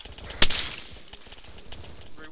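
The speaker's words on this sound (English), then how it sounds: "there's lots of fire going out" Gunfire during a field operation: one sharp, close shot rings out, followed by fainter scattered pops, with voices talking over it.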